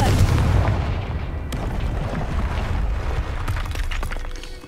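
A Confringo blasting spell in the video game Hogwarts Legacy: a loud booming explosion with a crackling burst and a rumbling tail, followed by scattered debris-like clatter.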